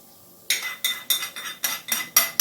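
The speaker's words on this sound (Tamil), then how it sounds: "இதை அப்படியே கொட்டிடுங்க." Ghee-roasted cloves are tipped from a metal pan into a dish, giving a quick run of about seven sharp metallic scrapes and clinks, close and fairly bright.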